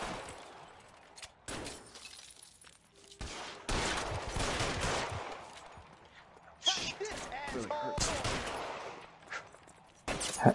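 M1 Garand rifle fire fills a gunfight with the military in the video game L.A. Noire, with bursts of loud gunshots, glass shattering and debris, alongside stretches of game dialogue.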